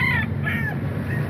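A seven-month-old young rooster crows at a weekend market in Baliwag, Bulacan, giving two or three close, loud cock-a-doodle calls over a steady hum of crowd noise.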